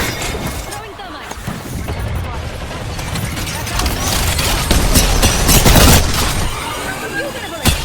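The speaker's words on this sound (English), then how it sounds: "Throwing thermite." Thermite grenade thrown in Apex Legends amid a loud, dense battle: continuous crackling bursts and gunfire-like impacts swell over eight seconds, with a voice talking throughout.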